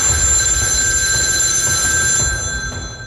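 A telephone rings with a steady electronic bell tone, loud and continuous throughout with no talking, the ringing tailing off slightly at the end.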